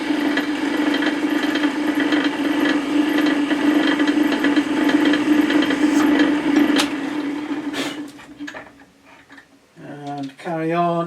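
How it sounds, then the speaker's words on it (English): A drill bores holes in a small metal part clamped in a vise for a gauge 1 live steam scratch build, giving a steady, loud grinding whine for about seven seconds before it stops and someone speaks. "Let's drill one."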